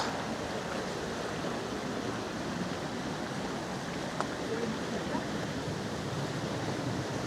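A waterfall in a Slovak mountain valley, Juráňová dolina in Orava, gives off a constant soft rushing roar, even and unbroken, heard from a little distance with no voices.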